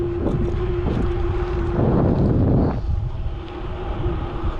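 Steady wind rushes over the microphone while moving outdoors, a constant roaring buffet with a faint tonal hum underneath.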